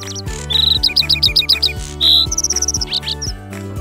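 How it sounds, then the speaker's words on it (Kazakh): Skylark song: rapid, high, trilling phrases of shrill notes and buzzy runs that change pattern quickly. The song is bright and close, with rhythmic background music underneath. "Бозторғай шырылдайды."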